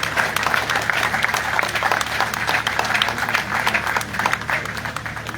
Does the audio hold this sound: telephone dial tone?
no